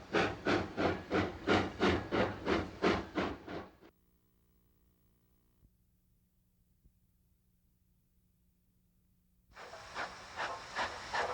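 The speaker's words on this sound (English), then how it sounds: "Closing out her final days, 1453 works a log train at Gold Bar, Washington" Great Northern steam locomotive 1453 hauls a log train at Gold Bar, Washington, with loud rhythmic chuffing exhaust beats that cut off into a quiet stretch with a steady hiss before heavy chuffing resumes.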